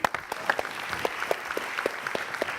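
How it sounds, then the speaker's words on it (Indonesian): Applause from a TV game show studio audience is sparse and patchy, with scattered claps across a low murmur, moderately loud and steady throughout with no talk over it. "Tepuk tangan buat Regi."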